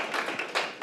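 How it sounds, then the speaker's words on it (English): A round of applause at a conference session on heirs' property law, a short burst of audience clapping, moderately loud and close. "everyone just please get a round of applause for Ryan Thompson"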